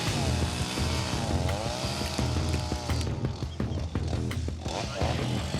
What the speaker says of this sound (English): They've got some chainsaws in here, which they're cutting the brush away from.